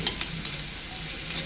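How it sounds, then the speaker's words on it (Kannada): Ground masala paste made with green chillies sizzles steadily in hot oil, a close, even hiss broken by a few sharp crackles near the start, with no voices. "ಇದು ಎಣ್ಣೆಗನೆ ಹಸಿ ವಾಸನೆ ಹೋಗೋತನ ಫ್ರೈ ಆಗಲಿ"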